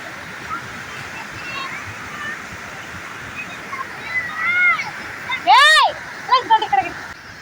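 The Anjaneya river flows with a steady broad rush of water throughout, while people talk nearby over it.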